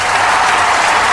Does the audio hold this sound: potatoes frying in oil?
no